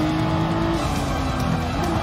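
Nissan GT-R R35 race car engine in Gran Turismo Sport, a steady loud roar with tire noise, continuous and close throughout with no talk.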